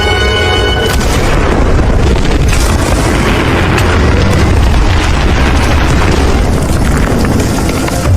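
A massive, sustained explosion roars loud and close, a dense rumbling blast that fills the whole clip without letting up.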